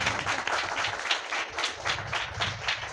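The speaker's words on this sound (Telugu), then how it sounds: "గట్టిగా చప్పట్లు కొట్టు." A congregation at a Sunday worship service claps hard in a steady, rhythmic beat, with about two claps per second, close and lively throughout.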